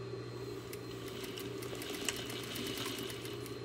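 A sewing machine runs at a steady pace through fabric while a cylinder is sewn, giving a soft, continuous mechanical hum with a fine ticking rhythm that stays quiet and close.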